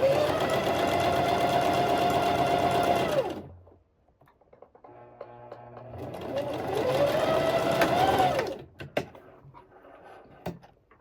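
A sewing machine runs fast and loud, understitching a neckline on a beginner's top, stopping for a moment with small handling clicks before a second long burst, then a few faint knocks.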